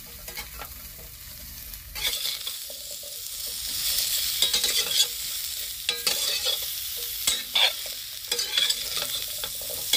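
Chopped carrot and radish are stir-fried for a mixed carrot, radish, chilli and amla pickle. A loud continuous sizzle is broken by repeated scraping stirs of a spoon in the pan, and no voices are heard.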